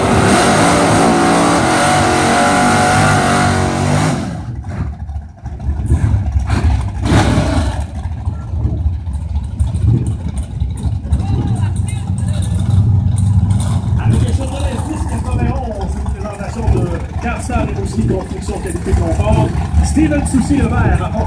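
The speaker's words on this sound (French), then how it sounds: "Plus de 60 véhicules en piste." Race cars circulate on a racetrack with more than sixty vehicles out, loud engines roaring and revving as they pass, a dense continuous drone that dips briefly before surging again, while an announcer talks over it.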